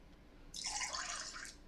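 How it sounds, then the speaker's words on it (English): A phone's water-reminder app notification chimes out, a short bright watery burst of bubbly, droplet-like tones lasting about a second, faint against a quiet room. "If you heard that, that's Cedra's phone with the water apps"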